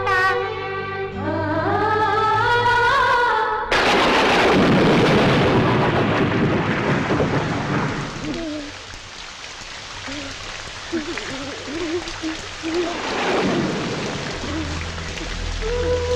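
A thunderstorm with heavy rain follows a brief stretch of music, opening with a loud crash and then a broad, steady roar of downpour, with faint voices in the background.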